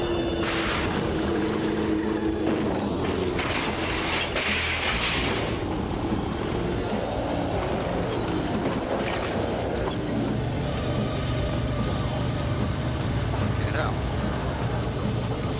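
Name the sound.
motorcycle engines roaring in film bike chase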